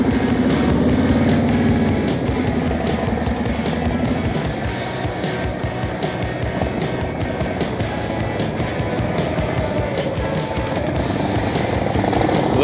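A motorcycle engine holds a steady throttle during a riding skills practice session, a continuous droning hum that swells slightly and then settles, with a brief instructor's voice heard over it.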